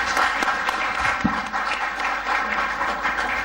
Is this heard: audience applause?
yes